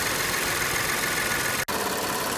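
An Audi 3.2L FSI engine idles just after an intake carbon cleaning, settling from a misfire into a steady, moderately quiet hum with a brief dropout near the end.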